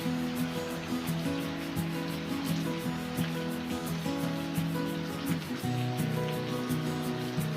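Heavy rain comes down on a rooftop in a steady, fairly soft hiss and patter, with no talk heard over the constant downpour.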